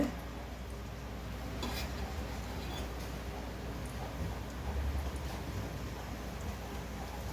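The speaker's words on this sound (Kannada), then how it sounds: "ತುಪ್ಪ ಕಾಯ್ದಿದೆ. ನಾನು ಅದಕ್ಕೆ ಒಂದು ಸ್ಪೂನಷ್ಟು ಜೀರಿಗೆ ಹಾಕ್ತಾ ಇದ್ದೀನಿ." A spoonful of cumin seeds sizzles in hot ghee for a Gujarati kadhi khichdi, giving a faint, steady crackling hiss with a few light clinks of a spoon against the pan.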